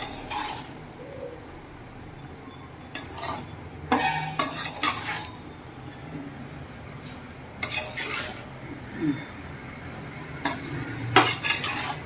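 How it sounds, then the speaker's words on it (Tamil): A utensil scrapes and clanks against a pan while chicken fried rice is stirred, in repeated bursts of metallic stirring separated by quieter sizzling pauses. "இப்போ நம்ம சிக்கன் ரைஸ் நல்லா கிண்ட போகிறோம்"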